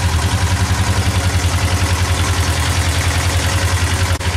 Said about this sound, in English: So I'm going to start up and let it idle just for a second